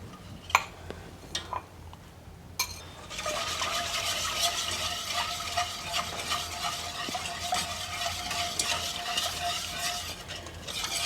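A spoon clicks a few times against a pot, then lemon meringue pie filling of juice and zest is stirred steadily on a stovetop burner with soft continuous sizzle and scraping. No one speaks.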